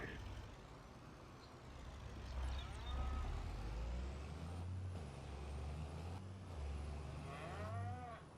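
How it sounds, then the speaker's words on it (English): Cows mooing in the Farming Simulator 25 video game, several drawn-out calls rising over a low rumbling background of machinery and farm ambience, repeated throughout. "Switched out the water buffalo for regular cows."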